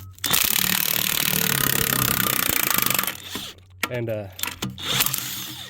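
A DeWalt impact gun rattles loudly and steadily for about three seconds in a workshop setting, then stops as a person starts talking.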